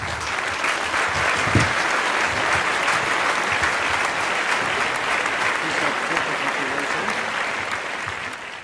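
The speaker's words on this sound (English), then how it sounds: "Good round of applause for Louis Gump." A crowd at an awards ceremony applauds a winner, a loud dense clapping that holds steady and tapers slightly at the end, with a voice briefly audible within it.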